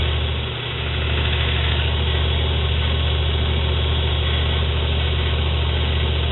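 A motor-driven grinder hollow grinds a steel knife blade with a 120 or 220 grit abrasive, giving a loud, steady, unbroken whir with a low hum beneath and no voices.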